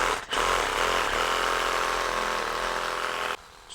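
A power saw, such as a reciprocating saw, makes a relief cut down a rubber subframe bushing on a Nissan 240SX, a loud, steady buzzing whine close by for about three seconds before stopping abruptly.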